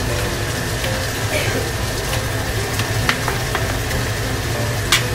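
Shrimp dropped into garlic butter in a pan, giving a steady close sizzle with scattered crackles and light stirring clicks throughout, no voice over it.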